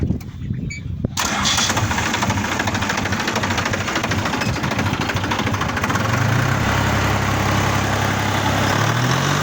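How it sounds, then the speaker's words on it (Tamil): A tractor engine cranks and fires into life after a quiet opening second, then settles into a loud, steady low-pitched idle with a brief rev change near the end; no one speaks. "வண்டி ஸ்டார்ட் பண்ணி காட்டுறேண்ணே."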